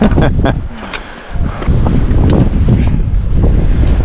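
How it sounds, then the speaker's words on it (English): Strong wind buffets the microphone in loud, continuous rumbling gusts, with a brief lull before roaring back. "It is a little bit windy."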